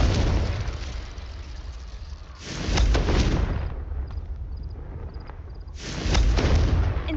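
Two loud, broadband fiery blasts from the Confringo spell in Hogwarts Legacy, each bursting out and rumbling for about a second, separated by a quieter stretch with faint magical twinkles.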